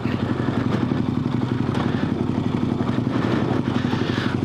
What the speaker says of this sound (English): we gingerly take our fully loaded, panniered up adventure bike down a hillside